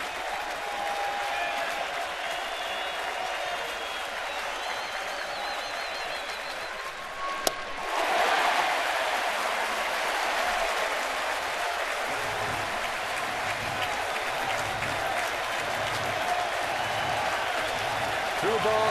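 A standing-room-only baseball stadium crowd during a 7th-inning, two-out at-bat with the Reds trailing, cheering and clapping steadily throughout, swelling louder partway through and holding a dense, continuous roar with commentary voices underneath.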